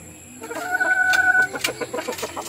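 Tall roosters and hens clucking nearby, a burst of overlapping clucks and short rhythmic calls, with one drawn-out crow-like note, fairly loud and close.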